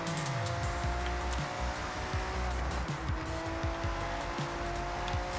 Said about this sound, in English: That's what the car sounds like.